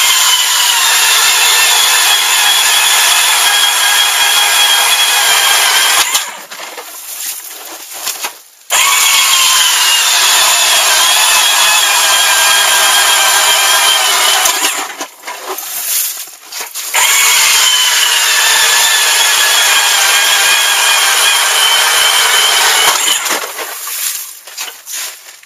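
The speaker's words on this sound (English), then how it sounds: "We're going to drill a couple holes." A loud cordless lithium ice auger drilling through ice whines continuously, cutting out briefly a few times before starting up again, up close with no talking.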